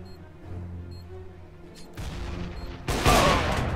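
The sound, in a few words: gunshots in the video game Counter-Strike: Global Offensive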